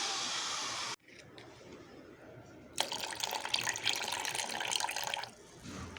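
Liquid of aloe vera, green chilli and turmeric water being poured into another container for mixing, a steady splashing pour that stops, then resumes louder.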